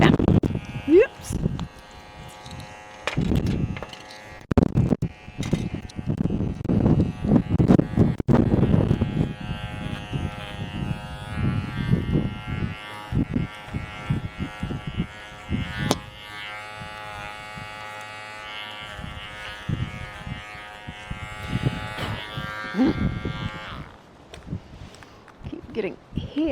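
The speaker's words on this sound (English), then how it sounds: "Keep getting hair under the clipper, don't we? We keep getting hair under there." Electric clippers shear a sheep with a steady high buzz that runs for most of the stretch, broken early by handling thumps and bleats, while people talk over it close by.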